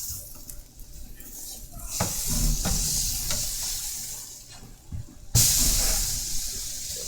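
Steak hissing and sizzling in a hot pan, a broad steady hiss with occasional thumps from pressing the meat, then a sudden louder burst of sizzle near the end.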